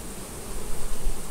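Honey bees crowded on the front of a hive box after being dusted with powdered sugar, producing a dense, continuous buzzing hum close by that swells slightly, with no voices.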